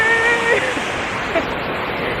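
Steady rushing wash of river water flowing beside an outdoor lunch spot, broadband and continuous throughout, with faint bits of voice or tonal sound over it.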